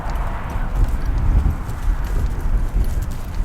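Horses walking outdoors in a herd turnout paddock with a mare and her foal, hooves clip-clopping in a steady, close, moderately loud patter over low rumbling background, with no talk.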